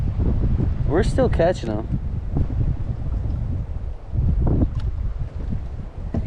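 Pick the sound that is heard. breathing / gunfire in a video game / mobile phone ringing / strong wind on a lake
strong wind on a lake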